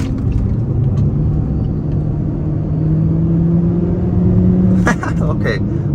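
A 2023 Mitsubishi Eclipse Cross SEL Touring accelerates with a steady rising engine drone and road rumble, loud inside the cabin, followed by a brief sharp whistle-like release near the end; a voice speaks over it.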